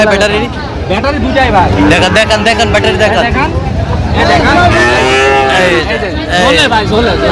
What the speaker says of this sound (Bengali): এখানে কিন্তু আরেকটা গরু আছে দেখেন